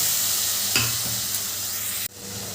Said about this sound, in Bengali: এবার এই গুঁড়ো মশলাগুলো ভালো করে মিশিয়ে নেব